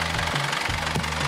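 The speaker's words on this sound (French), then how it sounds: "C'est un bon moteur." A Perkins marine diesel engine runs aboard a boat, a steady loud low rumble with a rhythmic knocking pulse and broad mechanical noise, close and continuous without talking.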